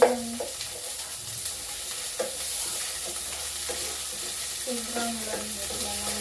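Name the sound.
onion and garlic frying in a pan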